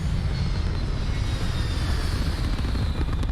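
A spaceship thruster fires during takeoff in the game Starfield, producing a loud, steady roar with a deep low rumble and a hiss layered over it. It holds constant and close for the whole stretch.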